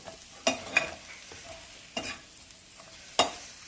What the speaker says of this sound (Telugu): చికెన్ ఫ్రై రెడీ అయిపోయింది ఇప్పుడు ఉప్పు అన్నీ కలిపేసాం కదా